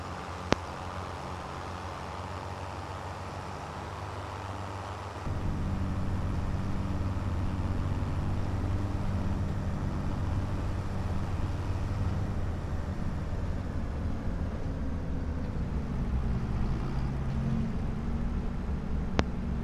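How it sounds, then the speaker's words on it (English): A tractor engine in the Farming Simulator 25 farming game rumbles steadily with a low idling drone, growing noticeably louder partway through and holding a constant hum. "Tractor slowing down."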